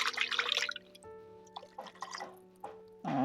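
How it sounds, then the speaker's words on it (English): Water poured into a kitchen blender holding leftover sauteed chicken remains, with faint trickling and dripping splashes against a quiet background and a louder burst at the end. "pour a little bit of water on it"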